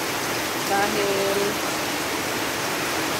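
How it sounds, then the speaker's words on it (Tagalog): Heavy rain roars as a loud, steady broadband wash throughout, with a brief voice speaking over it near the start. "Ang lakas ng ulan."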